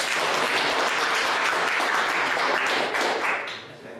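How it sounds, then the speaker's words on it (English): Audience applause after a talk, a dense, even wash of clapping from a full room that fades out over the last second. "round of applause for Kirill"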